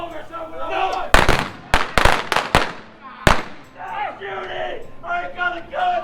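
Gunfight reenactment at the OK Corral in Tombstone, Arizona: a rapid volley of about six loud, sharp blank shots, then one more, with actors shouting before and after.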